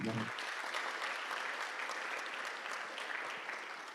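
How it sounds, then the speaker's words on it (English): Audience clapping at the opening of an international healthcare conference, a steady dense round of applause throughout that tapers slightly toward the end, heard somewhat distant in a large hall. "Can we kindly give a better round of applause to our Vice Chancellor?"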